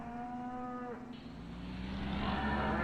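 Cattle on a beef farm rearing facility give a long, drawn-out moo followed by a second lower bellow, fairly close and clear over faint background noise.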